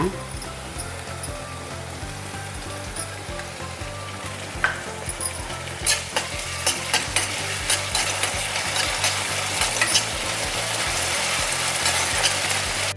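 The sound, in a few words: ginger garlic paste frying in a pan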